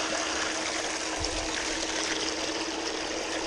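Water pours steadily into a gold trommel, a continuous close rushing trickle that runs unbroken from start to end.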